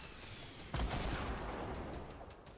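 Gunfire in the video game Fortnite crackles at a distance through a dense, noisy game soundscape, a sudden burst followed by scattered faint shots, fairly quiet overall.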